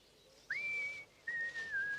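Two clear whistled notes, the first held steady and the second sliding slightly downward, close and fairly quiet.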